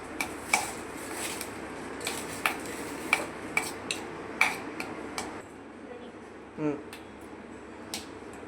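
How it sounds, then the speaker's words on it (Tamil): A spoon mashes and mixes potato filling seasoned with salt and chili powder for aloo parotta, with sharp metallic clinks against the bowl at irregular intervals over a soft background. "நல்லா மசிச்சு நல்லா மிக்ஸ் பண்ணிக்கலாம்."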